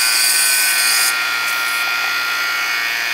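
Robinair 15500 vacuum machine drawing brake fluid out of a 1997 Lexus LS400, a loud, steady high-pitched whine and hiss running throughout, slightly easing after the first second.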